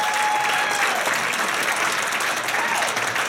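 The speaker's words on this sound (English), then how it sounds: "Stand up and take your applause." A theatre audience at a live Broadway-style musical show in Red Wing, Minnesota breaks into sustained, loud applause, a dense wash of many hands clapping for about three seconds.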